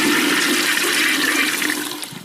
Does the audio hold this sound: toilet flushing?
yes